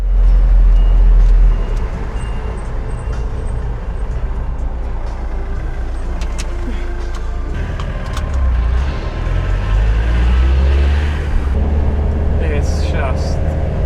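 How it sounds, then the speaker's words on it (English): Road traffic noise while stuck in a queue in a camper van in the Dolomites: low engine rumble of trucks and cars, a hiss like an air brake, passing vehicles swelling and fading, with people talking over it. "We're stuck in traffic for a little while"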